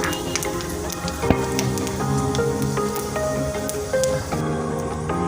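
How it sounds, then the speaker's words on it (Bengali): Panch phoron, cumin and a dried red chilli tempering in hot oil in a wok-style pan, with a steady close crackling sizzle and small pops throughout, no talking. "এখানে 5 ফোড়ন, জিরা আর একটা শুকনো লঙ্কা আমি ফোড়ন দেবো।"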